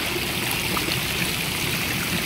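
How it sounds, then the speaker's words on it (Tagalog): Shower water runs steadily as a dense, even hiss of spray that fills the whole moment without pause. "Shower."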